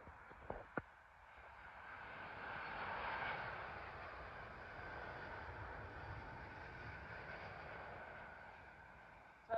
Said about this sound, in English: Arriving in now is the newly painted Warner Bros. Livery from Abu Dhabi to London Heathrow